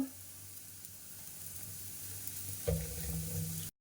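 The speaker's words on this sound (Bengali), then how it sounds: "কড়াইটা গরম হয়ে গেছে এবার সে কলা আর আলুটা ভাজা হয়ে গেছে গ্যাসটা অফ করে দিই পনিরটা ভেজে নেব" Paneer fries in a hot wok with a steady, close sizzle that swells louder near the end as pieces hit the oil.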